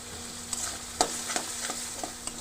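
Spice masala for chana masala being fried and stirred in a pan, a soft continuous sizzle broken by several crisp scraping spoon strokes, close and alone.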